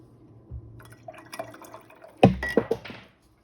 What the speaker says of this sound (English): Whoops, something went overboard and I just splashed water